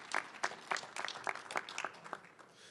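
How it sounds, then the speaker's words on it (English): Applause for the host mayor at a press conference, a small crowd clapping in a loose, uneven patter that rises and thins over a few seconds, moderately quiet in the room. "let's give another round of applause for our host mayor, Mayor Rawlings."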